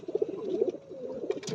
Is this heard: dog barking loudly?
no